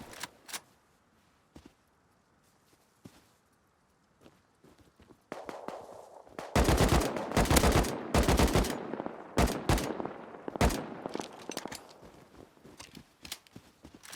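AK rifle fire in a video game, starting as sparse single shots and then turning into loud, dense bursts of rapid automatic gunfire with short pauses, up close and with no voices over it.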